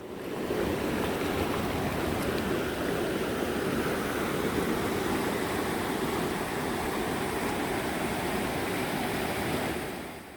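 A clear, cold mountain valley stream in the Odaesan fir forest rushes steadily, a dense, even broadband wash of flowing water that stays constant throughout with no voices.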